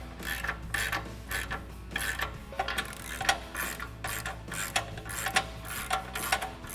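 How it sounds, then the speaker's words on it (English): Ratchet wrench tightening 8mm nuts onto painted studs of a Jeep Wrangler JL steel front bumper, giving a steady run of close, rapid clicking pawl strokes in repeated short bursts. "I'm just gonna tighten them down very loosely"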